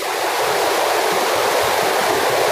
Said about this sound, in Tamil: இந்த தண்ணியோட சவுண்டு எப்படி இருக்கு நீங்களே பாருங்க, இயற்கையோட சவுண்டு.